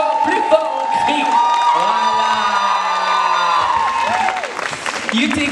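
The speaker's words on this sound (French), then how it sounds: "On l'applaudit bien fort, plus fort, on crie." Audience applause mixed with cheering, whoops and shouted voices at a fan event, lively and loud over sustained tones, tapering toward the end.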